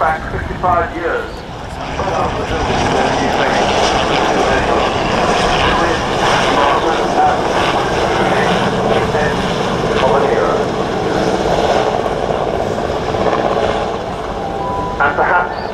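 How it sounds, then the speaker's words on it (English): A 55-year-old rescue helicopter flies at the RAF Cosford airshow, its engine and rotor noise a steady, loud drone that fills the whole stretch, with a commentator talking over it. "This helicopter dates back 55 years."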